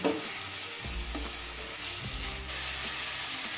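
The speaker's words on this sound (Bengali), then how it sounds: "এবার সবটা ভালো করে মিশিয়ে দিয়ে সমস্ত মশলাটা খুব ভালো করে কষিয়ে নিতে হবে।" Ground spices frying with water in a pan while being stirred, giving a dense, continuous sizzle and hiss with low scraping thumps from the spoon, close and steady throughout.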